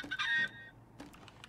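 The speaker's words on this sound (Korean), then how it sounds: "여기서 닭 소리 나." Clucking from a chicken in the game Minecraft, a short burst of bright, quavering calls followed by a few fainter, scattered clucks, heard alone without talk.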